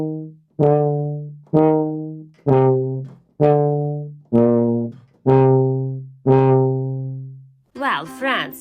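A solo tuba plays the slow, ominous Dies Irae theme from Berlioz's Symphonie Fantastique as eight loud, sustained low notes, one after another, followed by a brief burst of speech at the end.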